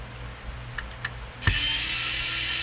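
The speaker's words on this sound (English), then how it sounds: "Now we're going to take these 5 screws off, or 6 screws on the bottom." Screws are removed from the bottom of a Nintendo GameCube, first with a few light taps and clicks, then a powered screwdriver whirs steadily and loudly close by; no one talks.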